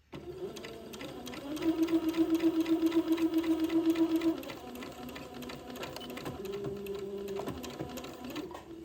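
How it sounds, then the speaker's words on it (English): A sewing machine sews a quarter-inch seam in an old-fashioned baby gown, its motor purring close and steady with rapid rhythmic stitching that speeds up, pauses, then resumes more gently. "I'm going to sew a little seam back here, a little 1/4 inch seam."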